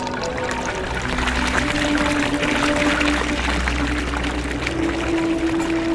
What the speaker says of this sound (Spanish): vamos a sincronizar el tiempo para poner los dos al mismo tiempo el agua